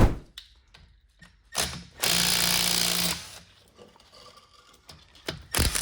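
A BMW 325is being raised and its wheels taken off: short ratcheting clicks and metal clanks, then a loud rattling power-tool burst of about a second, and more scattered taps close by.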